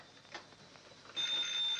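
A telephone rings at night, a single bright, steady ring that starts partway through and holds at moderate loudness over faint room noise.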